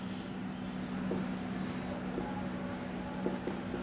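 Pen writing on paper while working a Class 10 maths distance problem, soft scratchy strokes with a few small taps, close and quiet against faint background hiss.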